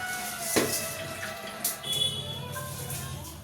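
Water splashes and gurgles as it is poured into a pot of soaked rice for chicken biryani, a continuous close-up pouring and running-water sound with a few brief clinks.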